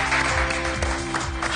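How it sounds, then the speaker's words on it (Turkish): Brief applause from a studio audience on a hairdresser competition TV show, a short dense burst of clapping over a steady musical background. "Alkışlıyoruz."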